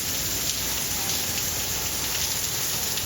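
Steady rain falls in the Dominican Republic, a dense, even hiss of drops on surfaces that holds without a break from start to finish, with no voices over it.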